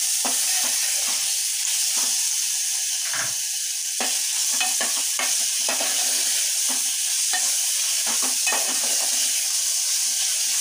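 A ginger, garlic, green chili and coriander paste sautés steadily in a pan for vada pav, with a continuous close sizzle broken by scraping stirs and clinks of a spoon.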